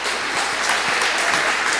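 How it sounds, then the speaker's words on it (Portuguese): A church congregation claps together in a dense, steady burst of applause, close and loud, with no speech on top. "aplauda o Senhor mais uma vez"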